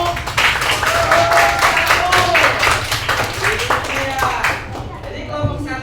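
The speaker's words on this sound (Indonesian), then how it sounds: "Oke, tepuk tangan untuk" Classmates clap for group 1 in a classroom lesson, a dense run of many hands that holds steady for several seconds and then thins, with some voices mixed in under the clapping.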